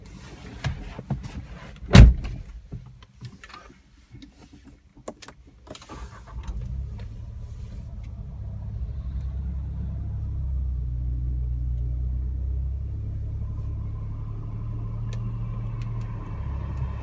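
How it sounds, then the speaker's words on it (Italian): A Seat Arona's door thunks shut, then its engine cranks and catches, settling into a steady low idle rumble that continues to the end. "Ma adesso è il momento di accendere il motore."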